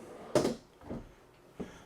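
A plywood kitchen drawer in a 2024 Alta Extreme 3250KXT RV sliding and knocking shut: one firm thump followed by two softer bumps, close and fairly quiet, with no talking.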